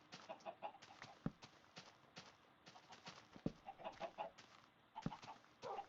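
Minecraft chickens clucking in short, repeated bursts over a steady game background, with occasional sharper pops mixed in; no one speaks.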